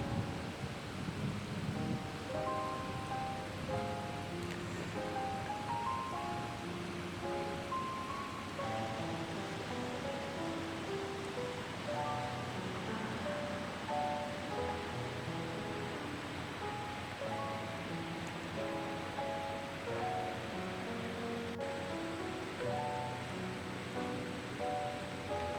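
River water flows through a park waterway in Mishawaka as a faint, steady rushing wash that continues without a break.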